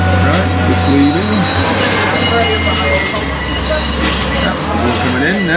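A train pulls out of Grosmont station in the 21st century, with a steady low rumble, wheel squeal and rail noise running loud throughout, and voices speaking underneath.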